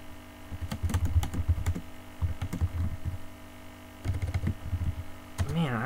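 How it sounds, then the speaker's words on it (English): Fingers type on a computer keyboard, a close run of uneven clicking keystrokes in quick bursts with short pauses, over a steady electrical hum. "Man, I'm getting bad at typing."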